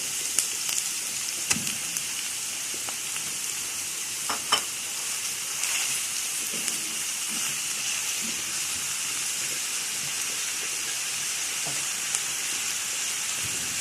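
A quarter kilo of minced meat fries in ghee with softened onion, giving a steady close sizzle and hiss broken by occasional clicks and stirring scrapes, with no one speaking.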